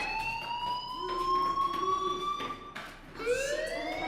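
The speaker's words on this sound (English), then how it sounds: "do you hear that fire alarm?" Electronic fire alarm in the video game Life Is Strange, a loud sustained tone with rising pitch sweeps that briefly cut out and restart, sounding alone without talk.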